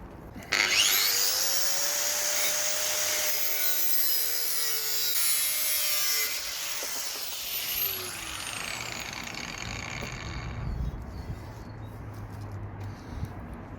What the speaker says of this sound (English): I've got my angle grinder with a thin cutting disc.